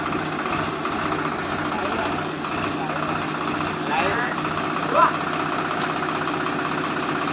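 A tractor engine idles steadily while the machine sits stuck in mud in a field, a continuous mid-level rumble with slight knocking, as people talk over it in the background.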